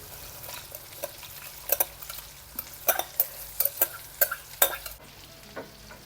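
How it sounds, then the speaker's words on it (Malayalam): Washed rice goes into boiling water in a pot for fish biryani and is stirred, with a series of scraping clicks and knocks from the spoon over a low bubbling hiss, close and without talk. "ഇതിനകത്ത് ഈ കഴുകി വെച്ചേക്കുന്ന അരിയില്ലേ, ഇതിനകത്തിട്ട് കൊടുക്കുക."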